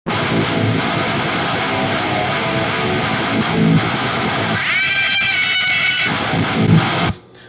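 Heavy distorted electric guitar through the Archetype Gojira plugin with an automated wah pedal, loud dense riffing with a sweeping, vowel-like squeal midway, cutting off abruptly at the end.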